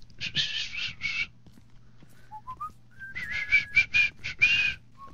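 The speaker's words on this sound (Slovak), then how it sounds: "Pískam jak on?" A person whistles in quick, bright bursts, with a pause and a few soft notes in the middle, then a longer run of whistled notes.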